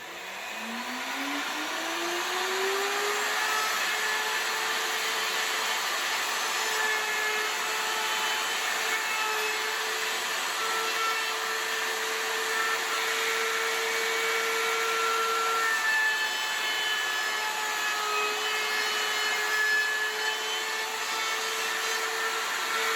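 Router with a bearing-guided bit rounding over the edges of a wooden crate, a high whine spinning up over the first seconds and then holding a steady, loud, continuous cutting drone, with no talk.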